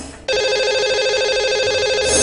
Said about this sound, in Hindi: लगाते हैं इन्हें कॉल और करते हैं इनसे बात